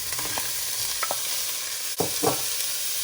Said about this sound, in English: I am going to add my onions. And I'm also going to be adding the carrots.